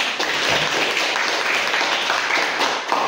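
A classroom of people claps steadily, a dense, even patter of applause sustained throughout.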